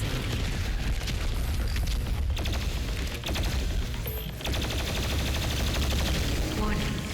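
A BFG 10,000 cannon in a video game fires, a dense, continuous roar of loud blasts and rumbling mechanical noise that fills the scene without a break, with game voices mixed in.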